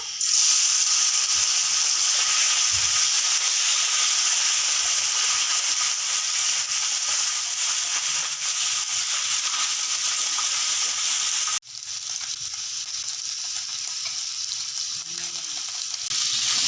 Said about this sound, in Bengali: তেলটা গরম হয়ে গেছে এবার মাছটা দিয়ে দেবো